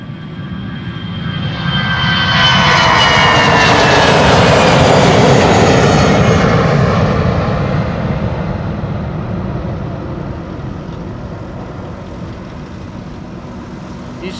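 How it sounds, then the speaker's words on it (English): EasyJet Airbus A320 airliner, eight years old, passing at Schiphol Airport: a jet roar builds over a few seconds, peaks, then tapers away into a steady distant rumble. "EasyJet flight 22516 going to London Luton, A320, 8 years old, first flight June 2015."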